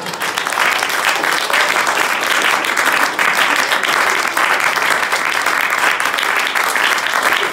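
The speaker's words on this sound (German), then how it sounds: "das ist auch noch ein paar kleine Applaus" Audience applause at a stage show, broad steady clapping that fills the whole stretch at a loud, even level without letting up.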